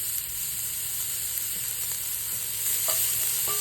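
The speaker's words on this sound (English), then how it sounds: "Garlic and onions going." Garlic and onions frying in a pan at a boreal hunting camp kitchen in Alberta, giving a steady, close hiss of sizzling with a few faint clinks of stirring near the end.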